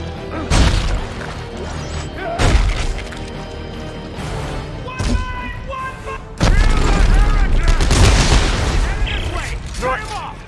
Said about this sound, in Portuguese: Tiroteio, ação frenética, só na baguncinha.